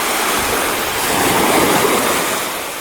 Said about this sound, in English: Big wave just came, so it's kind of unbalanced here a bit.